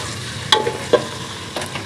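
Beef pieces frying with onions in a pan for dhaba-style tarka daal, a low sizzle broken by a few sharp stirring scrapes and clinks, close and moderately loud.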